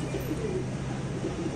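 Soft, repeated cooing of pigeons, low and close, over a steady background hum.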